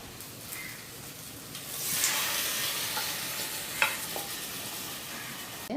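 Masala powder sautéed in a pan for drumstick-leaf sambar, a steady soft sizzle with faint stirring scrapes and one brief clink, fairly quiet and close, with no voices.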